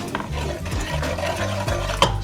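A wooden spoon stirs curry goat in a pot over an outdoor fire, making close, soft scraping and shuffling strokes with a faint sizzle underneath. A brief knock comes near the end.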